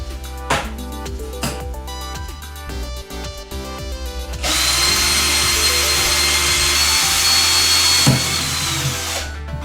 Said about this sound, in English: So I'm just screwing it in now